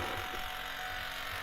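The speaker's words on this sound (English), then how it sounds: "Vacuum pump is pumping." Vacuum pump on a Ford F350 pickup running steadily after the key is cycled, a constant buzzing whir with a low hum underneath, close and even throughout.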